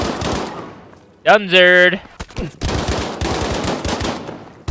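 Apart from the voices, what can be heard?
gunfire in video game Battlefield V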